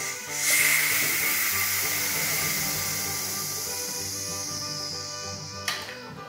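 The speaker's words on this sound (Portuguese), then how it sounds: "Então a minha panela aqui é só eu ir virando e esperar pra sair a pressão." Pressure cooker with a pudding inside venting its steam, a loud continuous close hiss that holds steady and then eases slightly, with a short clack near the end.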